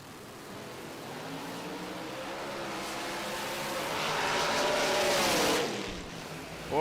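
A dragster engine roars from the strip at a PDRA drag racing event, swelling steadily louder over several seconds before a sharp cut and a fresh burst at the end, with no talk over it.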